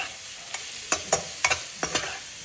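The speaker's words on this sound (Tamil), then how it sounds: "இந்த காலிஃப்ளவரை இதில் போட்டு ஒரு பெரட்டிடலாம்." Cauliflower being stir-fried in a hot pan, a steady sizzle broken by about six sharp spatula scrapes and tosses in quick irregular succession, with no voices.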